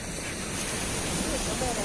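Ocean waves washing onto a clean beach with clear blue water, a steady broadband rush of surf with wind noise, loud and close, with people talking faintly.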